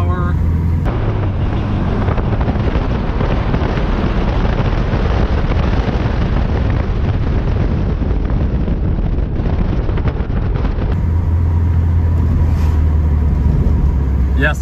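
Interior of a VW Beetle fitted with a disc brake conversion and drop spindles, its engine droning steadily and loudly under heavy wind buffeting throughout.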